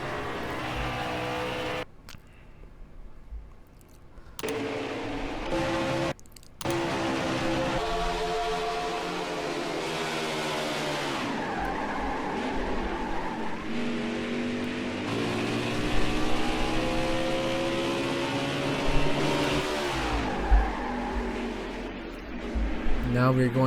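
In a NASCAR racing video game, race cars roar and whine through a long stretch of engine drone, braking and crashing, with shifting pitch and brief cut-outs, under steady talk from a commentator.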